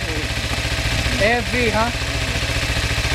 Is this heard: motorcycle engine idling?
yes